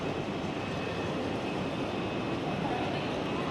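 Busy concourse ambience at Kings Cross station in London, a dense, steady wash of crowd murmur and echoing hall noise with no single sound standing out.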